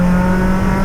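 A Mitsubishi Lancer rally car engine roars loud and close in a brief, sustained rev with a strong, steady droning note.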